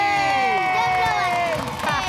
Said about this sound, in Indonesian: Langsung kita kasih tepuk tangan.